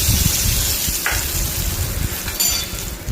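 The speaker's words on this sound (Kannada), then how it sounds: "ಈಗ ಒಗ್ಗರಣೆ ಕೊಡ್ತಾಯಿದ್ದೀನಿ." Steady crackling sizzle of spices and curry leaves frying in hot oil, close and continuous, with faint stirring scrapes and no voices.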